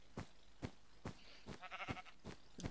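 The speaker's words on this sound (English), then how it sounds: "Sheep." Minecraft sheep bleating in a video game, several quiet wavering bleats over a regular rhythm of soft thudding game footsteps, with no talk.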